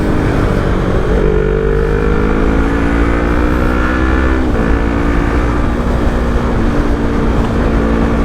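A modified Yamaha R3 motorcycle with a flash-tuned ECU accelerates on an expressway, its engine revving up in a rising drone under heavy, constant wind roar, loud and close throughout.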